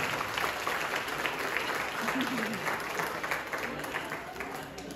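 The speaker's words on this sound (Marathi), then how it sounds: "अरे यांच्यासाठी जोरात टाळ्या झाल्या पाहिजेत." An audience gives loud, sustained applause for an elderly grandmother after her zimma fugdi dance. The dense clapping from the crowd runs steadily throughout the clip.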